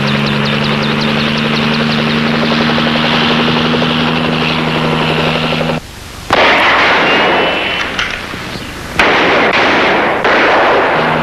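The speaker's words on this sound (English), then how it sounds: "Their job was to keep the kidnappers occupied with a concentrated volley of crossfire." A concentrated crossfire volley of gunfire erupts in a TV crime drama as a helicopter holds nearby, its steady rotor drone running under rapid, dense shots that briefly drop out and then return at full, loud intensity. No one speaks.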